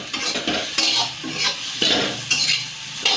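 Large roasted potatoes being broken up and stirred with a spatula in a hot kadhai for sabudana khichdi, with repeated scraping strokes against the pan over a light sizzle, close and loud with no talk.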